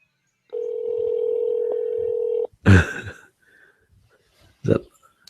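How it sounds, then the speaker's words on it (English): A steady electronic telephone tone holds for about two seconds, then cuts off, followed by short bursts of noise and a brief voice-like sound. "See, it's ringing on this end."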